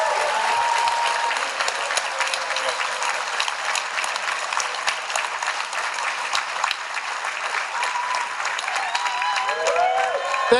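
A banquet-hall political rally crowd applauds Chief Sparrow with sustained, dense clapping, steady and fairly loud for several seconds, with scattered cheers and murmurs rising near the end.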